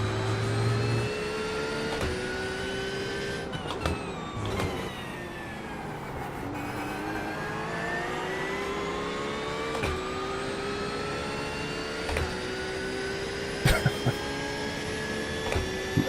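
Chevrolet Corvette engine in a Daytona racing video game, a steady drone with rising and falling pitch as it revs and shifts, continuous and fairly loud throughout, with brief clicks near the end.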